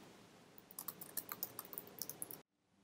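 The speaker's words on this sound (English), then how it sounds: "And let's say I type a letter." Quick, light key clicks as a letter is typed on a Mac computer keyboard in a quiet room, a steady burst of about a dozen taps that stops abruptly.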